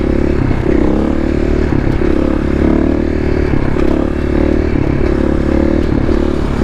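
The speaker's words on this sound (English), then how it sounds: "First wheelie of the day, why not?" A motorcycle pulls a wheelie on a road through the South Dakota Badlands, its engine a loud, steady drone with rising revs and clattering wind noise, close to the microphone throughout.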